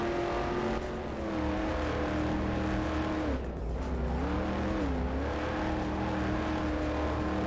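A 725-horsepower Corvette engine in the game Corvette: 50th Anniversary drones loudly at high revs, dipping and swelling as the pitch shifts, with some tire squeal underneath.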